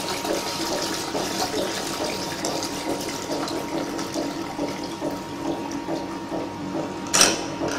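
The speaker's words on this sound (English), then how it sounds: "After 5 minutes, please let the water out from the machine." Water drains out of a machine after its cleaning cycle, a steady near rushing flow with pump-like hum continuing evenly, ending in a brief sharp splash or clatter near the end.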